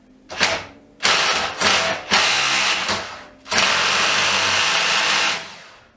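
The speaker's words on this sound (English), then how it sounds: "I've got the DeWalt in reverse. Let's put it on and see what happens." A DeWalt cordless drill (DCD777/DCD796/DCD996 type) runs in reverse in repeated short bursts, then one longer run, its motor whining loudly close up as the chuck slips and ratchets past the brake.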